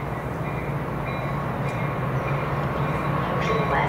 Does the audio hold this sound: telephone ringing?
no